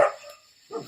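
A dog gives a short bark, then a second yelp follows after a brief pause, fairly close and without any talking.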